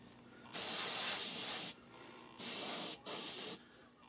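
An airbrush set to high pressure sprays a coat of paint onto a fishing lure in three close, loud hissing bursts: one long, then two shorter ones separated by brief quiet pauses.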